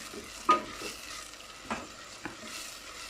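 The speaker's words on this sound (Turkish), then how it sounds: "Şimdi şöyle biraz tereyağı attım. Biraz sıvı yağ, şu soğanları bir kavurayım." Onions fry in butter and oil in a pan, a soft continuous sizzle broken by a few stirring scrapes and clinks, close and fairly quiet with no talking.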